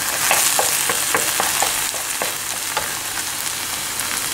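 Onion sautéing in a pot together with meat and mushrooms for a mushroom solyanka, a steady loud sizzle with occasional stirring scrapes, close and continuous without speech.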